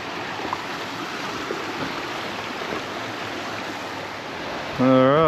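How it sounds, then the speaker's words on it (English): Steady broadband rush of flowing river water at a vehicle river crossing on a remote outback road, continuous and fairly loud, ending with a sudden louder tonal engine-like burst. "Another river crossing."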